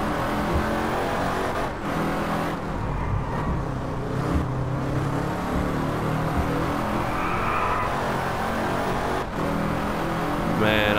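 The Wombat Typhoon car engine in Driveclub drones loudly and steadily, holding a sustained revving tone with brief dips as the car drives on.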